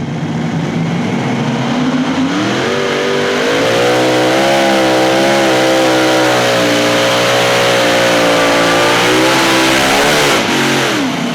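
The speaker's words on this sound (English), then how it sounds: "Fans love these multi-engine machines, and they are loud, as you might imagine, at full song." A multi-engine pulling tractor roars at full power during a pro pulling competition, its loud, close engine note wavering and climbing continuously with layered harmonic tones, alone without talk.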